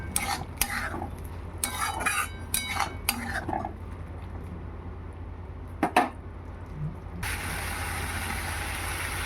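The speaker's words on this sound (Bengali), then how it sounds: "ভাজা মশলা ভালো করে মিশিয়ে নেব।" A spoon stirs fried spice mix through a thick pumpkin curry in a pan, giving scraping, clinking strokes in short bursts over a low steady hum, then a soft even sizzle at the end, with no one speaking.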